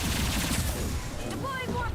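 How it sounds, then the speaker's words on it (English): A heavy, high-impact gunshot from Mass Effect 2 booms loudly and fills the whole clip, dense and close. A voice is heard briefly near the end. "Firing a high impact shot."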